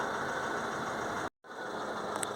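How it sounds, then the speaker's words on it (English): A Fiat Ducato van engine idles with a clogged, soot-laden diesel particulate filter. The steady, close idle rumble cuts out for a moment, then resumes at the same level. "Now I've got the engine sounding. I've left it ticking over for a couple of minutes."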